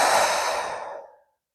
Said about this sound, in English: Let's just take a deep breath to start with.